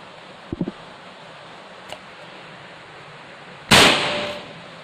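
A Mauser Black Mamba air rifle fires once, a loud close crack with a short decaying tail, preceded by a few faint clicks of handling in an otherwise quiet outdoor setting.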